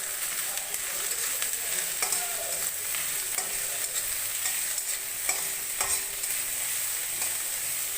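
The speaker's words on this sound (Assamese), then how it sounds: "আৰু এইখিনি অলপ সময়ৰ কাৰণে ভাজি থাকিম।" Pointed gourd and potato pieces fry in a pan, a continuous close sizzle broken by repeated scraping and clinking strokes of stirring, with no talk.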